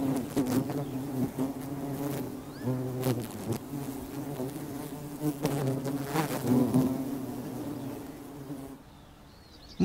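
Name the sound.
buzzing of male bees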